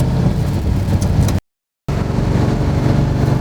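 Steady low engine drone from a 1971 Chevrolet Camaro SS 350 cruising at about 30 mph, heard from inside the car, loud and continuous apart from one short break in the sound.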